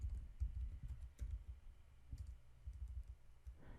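Keys on a computer keyboard tap in quick, soft bursts, a faint close-up clatter of individual keystrokes while a command is typed.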